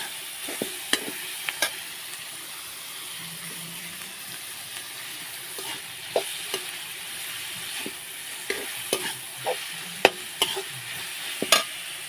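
Coriander and turmeric sautéing in a pan for prawn curry, a soft continuous sizzle broken by irregular clinks and scrapes of a spoon stirring, with no talking.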